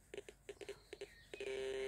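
A TX 850 metal detector sounds over a silver ring, giving a run of short, quiet tonal beeps in uneven pairs, then settling into one sustained steady tone.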